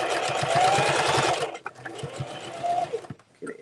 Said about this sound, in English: take out your pin as you sew